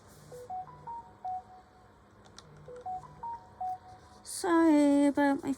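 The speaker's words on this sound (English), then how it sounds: "Sorry about my phone going off constantly." Phone notification chimes go off repeatedly, short tonal beeps in rising melodic pairs spaced a second or so apart, then a louder ringing tone near the end, all clear and close.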